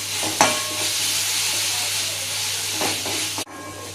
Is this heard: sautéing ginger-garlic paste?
yes